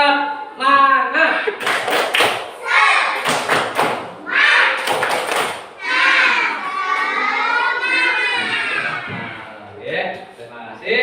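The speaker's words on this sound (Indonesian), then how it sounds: "Coba ayo tepuk semangat." A school class performs the 'tepuk semangat' spirit chant, children's voices chanting loudly together, punctuated by sharp rhythmic bursts of group clapping.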